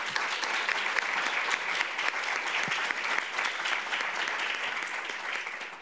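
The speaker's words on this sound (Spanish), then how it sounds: "Un aplauso." Sustained audience applause fills a hall at an annual regional press gathering, dense and steady from start to finish with no pauses.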